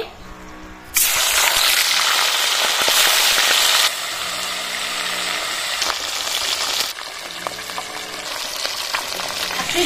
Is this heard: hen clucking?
no